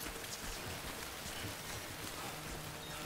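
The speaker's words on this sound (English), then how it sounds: "Also, it's raining." Steady rain pours down in the game Death Stranding, a dense, even wash of drops hitting surfaces that holds at one level for the whole stretch, with no voices over it.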